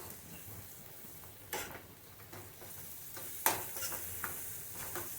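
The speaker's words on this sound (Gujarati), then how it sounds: "બધું બરાબર મિક્સ થઈ જાય અને ટામેટા સેજ પાકી જાય" A spoon stirs a tomato mixture in a pan on the stove, scraping gently under a soft sizzle with a few sharper clinks of utensil against the pan, quiet and close, no one talking.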